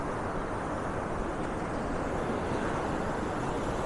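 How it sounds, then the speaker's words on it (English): Ocean waves breaking on a sandy shore, a steady broadband wash of surf with wind rushing across the microphone and no distinct individual breaks. "He created these waves that are crashing on the shore"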